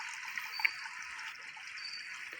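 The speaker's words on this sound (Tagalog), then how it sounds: "yung bukal po na dumaan sa kuweba" A thin, steady trickle of spring water running out of a cave flows continuously with a soft hiss, fairly quiet and even throughout.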